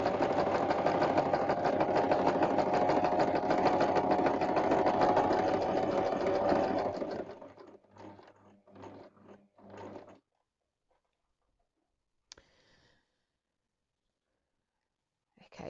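A sewing machine stitches a quilt block in a continuous rapid whir for about seven seconds. A few short bursts of stitching follow, then quiet clicks and a final small knock.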